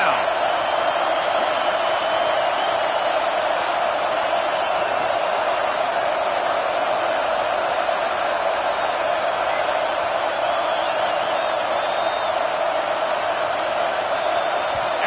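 A dense, steady roar from a football stadium crowd backing the defense on third down, loud and continuous throughout with no breaks.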